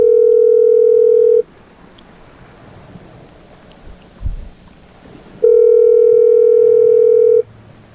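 A telephone ringback tone sounds as a steady, loud tone lasting about a second and a half, then after roughly four seconds of quiet line noise it returns for a second long burst.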